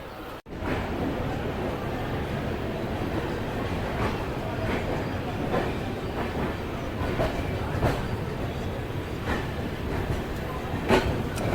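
Diesel train departing Rajkot station on the Porbandar line, a continuous loud rumble with faint rhythmic clatter of wheels over rail joints throughout.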